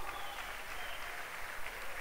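A congregation applauding in church, a dense wash of many hands clapping that carries on steadily and sounds somewhat distant and muffled.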